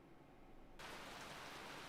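Rain begins in the Hatoful Boyfriend video game on a mountain summit. A low hum gives way abruptly to a steady, even hiss of rainfall that continues to the end.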